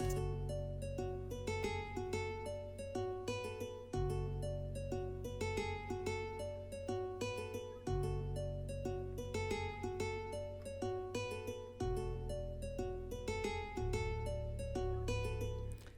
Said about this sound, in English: Alright, so I started with this guitar from Expand,